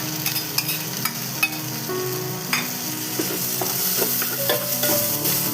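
Green masala of crushed green chilli, garlic and ginger is stirred into fried onions in a pan for Thalassery mutton dum biryani, with steady sizzling under repeated scraping strokes and sharp clicks of the spoon against the pan.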